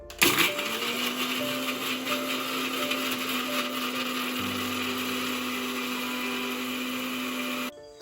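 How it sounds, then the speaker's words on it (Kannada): A small chutney mixer grinding mango curry masala with a little water, a steady loud whine running for about seven seconds before stopping abruptly, close by. "ಇದನ್ನು ಚಟ್ನಿ ಮಿಕ್ಸರಲ್ಲಿ ಹಾಕ್ಬೋದು ನೀವು"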